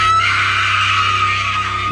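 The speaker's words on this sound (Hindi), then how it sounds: "शीतल और अमित डर के मारे चीख पड़े" Two people scream in terror in a dramatized Hindi horror audio story, a loud sustained shriek filling the whole moment over a low droning background.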